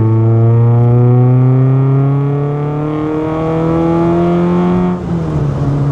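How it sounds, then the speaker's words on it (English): Rover Metro fitted with a swapped Lotus K-series engine, revving high and climbing steadily in pitch, loud and close, then dropping sharply as the revs fall off near the end. "I can't believe how high revving it is."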